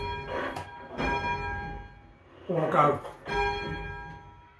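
Church bells of St Ann's Church, South Tottenham, ringing changes in a sequence of resonant strikes, several tolls sounding at uneven intervals, with a brief spoken word between them.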